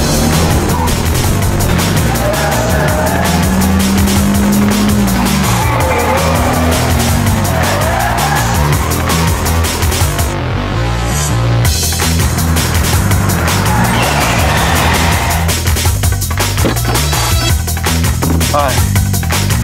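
Race car pushed hard through a hairpin bend during tire traction testing, engine roaring loudly throughout with bursts of tire squeal and skidding; music plays under it.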